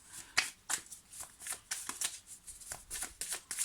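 Tarot cards are shuffled by hand in quick, even riffles, about a dozen crisp close-up bursts in a steady rhythm with no talking.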